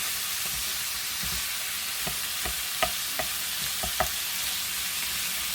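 Finely sliced onions fry in a pan, a continuous bright sizzle close by, punctuated by several light utensil taps and stirring scrapes, with no voices.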